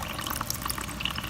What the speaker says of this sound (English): The water's coming.